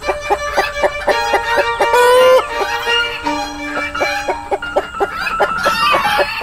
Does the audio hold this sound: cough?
no